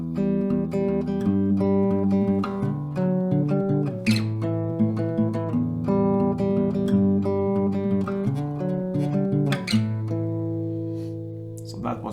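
Acoustic guitar playing a song's lick as a lesson demonstration, a melodic line over strummed chords repeated for two rounds with a changed final chord, steady and clear with no voice over it.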